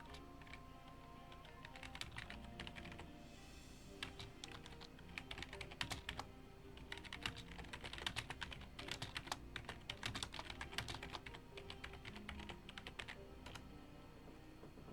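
Someone types steadily on a computer keyboard, a quiet run of rapid, irregular key clicks that thickens into denser bursts midway, with no voices.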